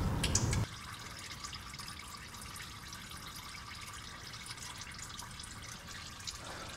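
Engine oil drains from an Audi RS6 in a steady, runny trickle that hisses and patters continuously at low volume after a brief louder splash at the start.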